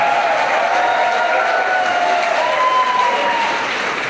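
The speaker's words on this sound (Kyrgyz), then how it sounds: "Той бизге жакты дегенде бир ал туши кол чаап коелуш келиңиздер." A wedding audience at a celebration in Kyrgyzstan claps in steady, dense applause that stays loud and continuous throughout, with no cheering or voices standing out.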